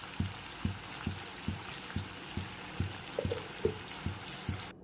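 Onions with curry leaves, rock salt and turmeric sauté in a pan under a soft constant sizzle, with a regular scraping stir roughly every half second, close but quiet.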